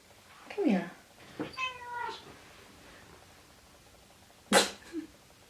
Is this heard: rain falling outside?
no